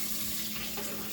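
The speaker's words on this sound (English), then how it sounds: "I'm gonna fill this up with the water" Tap water running into a bottle, a steady close rushing splash with no pauses, filling it halfway.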